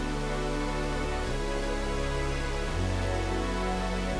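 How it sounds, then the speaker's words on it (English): Electronic beat of mid-frequency bass, glitchy pad and growl bass: loud, dense and steady, with sustained tonal layers that shift pitch at two points, playing alone. "So the mid-frequency bass, glitchy pad, growl bass,"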